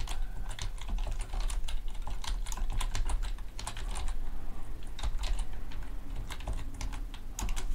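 Someone types a few words on a computer keyboard while writing in LibreOffice Writer, a steady run of close, crisp key clicks with brief pauses between bursts and no talking.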